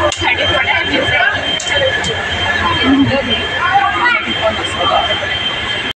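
A train stands at Guwahati railway station amid a crowded platform, its steady low rumble running throughout beneath a constant babble of many people talking.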